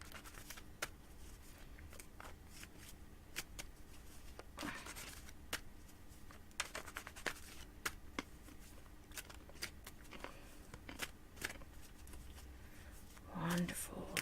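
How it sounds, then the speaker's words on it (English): A tarot card deck is shuffled at close range, with repeated crisp riffles and soft slides of the cards sounding in quick irregular bursts against quiet room noise. "I'm just going to keep shuffling until somebody says, I want a reading right now"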